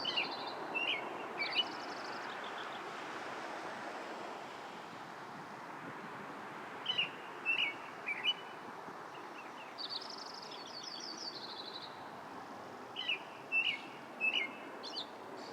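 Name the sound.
Lincoln's sparrow song with American robin singing nearby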